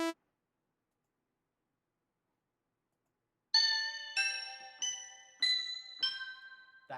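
Bright chime tones from a sample in a lo-fi beat ring out after a long silence: five or six clear struck notes in a loose descending run, each decaying quickly, clean and alone.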